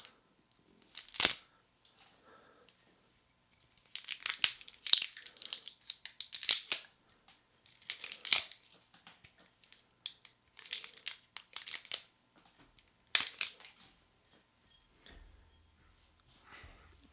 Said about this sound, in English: Once I get this cellophane off.